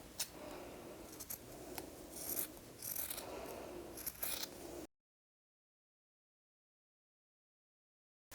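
Scissors snip through the main fabric along a straight edge for a rabbit-ear Easter fabric bag, giving a run of close, crisp cutting sounds with small clicks for about five seconds before the sound drops to silence.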